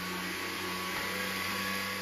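A Levoit vacuum cleaner with a built-in light runs indoors in a steady, loud, close whooshing drone with a faint tonal whine, constant throughout with no talking.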